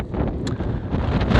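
Strong gusting wind buffets the microphone at a beach in Blokhus, Denmark, a steady loud roar that swells near the end with no voices.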